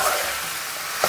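Drumstick thoran is stirred in a hot pan, with a soft, close scraping and gentle sizzle running steadily for about a second, ending in a slightly louder scrape.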